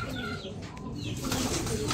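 Racing pigeons in a loft in Gapan, Nueva Ecija, cooing and fluttering their wings together, a dense, steady flock murmur with soft wingbeats close by.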